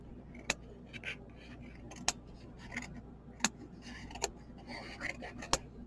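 Scissors trimming excess paper off a mini chocolate box, several sharp, quiet snips spaced apart with faint rustling and a voice speaking softly.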